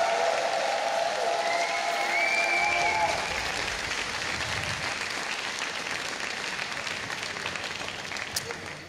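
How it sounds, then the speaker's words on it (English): A crowd at a StarCraft tournament event applauds and cheers loudly for a player, sustained clapping that slowly tapers off, with an announcer's voice mixed in. "Give a cheer for Flash!"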